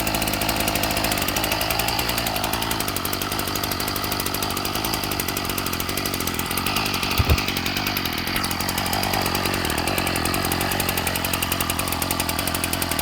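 A Ryobi 740r small two-stroke engine idles steadily after its first start following winter storage, a loud, close, buzzing drone with one brief knock midway.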